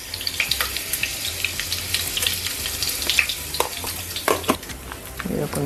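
Chili powder hits hot oil in a pan while cooking Korean-style chicken, giving a close, steady sizzle with scattered stirring clinks and scrapes and brief louder spatters.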